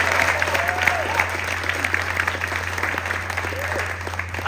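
An audience applauds the first public performance of songs from the musical Dear America, a steady, lively burst of many hands clapping with scattered cheers and whoops in the mix.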